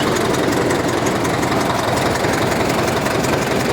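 The pony motor on a Caterpillar D4 bulldozer runs at a steady, loud, close-up idle with a rapid knocking chug and no voices over it.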